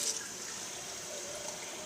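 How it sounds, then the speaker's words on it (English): Water running steadily from a kitchen sink tap, a continuous soft hiss and trickle heard close by with no talk over it. "Let me cut this water off"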